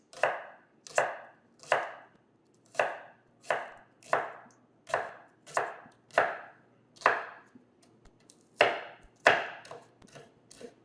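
Knife strokes chop a carrot into thin slices on a cutting board, about a dozen sharp, evenly spaced thuds landing close and clear with no talking, during preparation of Italian escarole and bean soup.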